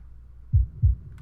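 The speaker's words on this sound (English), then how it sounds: "put a heartbeat before the drop as well" Heartbeat sound effect placed before the drop in a melodic techno track: two deep, loud thumping beats about a third of a second apart, isolated over a low background hum.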